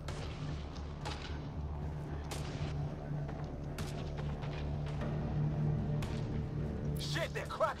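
Enemy gunfire in Mass Effect: Andromeda comes as sporadic sharp cracks and thuds over a low steady hum, with a voice talking now and then.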